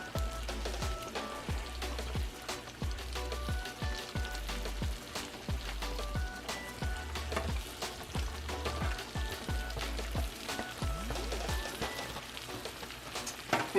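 Smothered fried pork chops topped with onions simmer in a pan, giving a continuous soft crackle and patter of sizzling that stays steady and close, with faint tonal sounds underneath.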